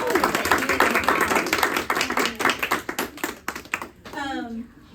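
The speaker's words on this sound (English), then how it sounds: "let's give Bree-Line a hand of" An audience claps for a speaker at an entrepreneur public-speaking event, steady close applause that thins out, then a voice begins speaking.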